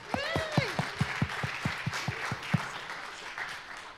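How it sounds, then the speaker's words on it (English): A small audience claps at a quiz game demo day presentation, distinct separate claps forming a sparse, fading round of applause with a voice briefly audible. "Come on, round of applause for us."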